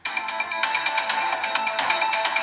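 A phone rings continuously while a husband calls his wife, a steady electronic tone that pulses in short repeating bursts. It sounds close, fills the whole moment and has no talk over it.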